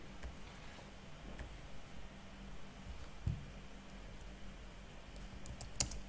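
Fingers tap away at a computer keyboard in a quiet room, a soft, steady run of light keystrokes with a few sharper clicks near the end, no voices.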